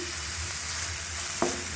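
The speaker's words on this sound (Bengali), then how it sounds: "রসুন কুচিটা আমি একটু সুন্দর করে ভেজে নিচ্ছি" Chopped garlic frying in a pan after onions: a brief, steady close sizzle with one soft utensil knock near the end, no talk.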